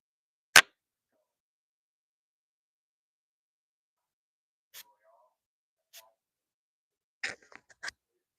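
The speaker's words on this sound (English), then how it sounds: "I'm gonna let you guys hear the sprays" A perfume bottle being sprayed several times near the microphone: one sharp hiss, two short lone puffs, then a quick cluster of bursts, with silence between.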